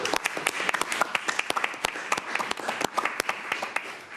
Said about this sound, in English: you are, of course, the first person ever to get applause in this press conference